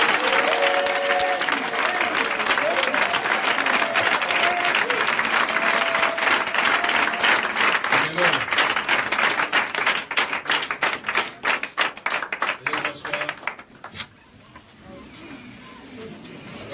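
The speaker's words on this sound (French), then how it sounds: "Est-ce qu'on peut acclamer le Seigneur?" A church congregation claps and cheers in sustained applause for over ten seconds, loud and dense, then thins into scattered claps and fades out near the end.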